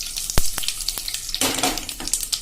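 Asafoetida, curry leaves and sesame seeds are tempered in hot oil for bottle gourd muthiya. A few sharp crackling pops are followed by a sudden burst of close, steady sizzling.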